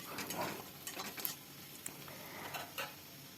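Onion and garlic paste frying in a pan for a kachur lati korma, a faint close hiss of sizzling with small scattered pops and light ticks, no talking.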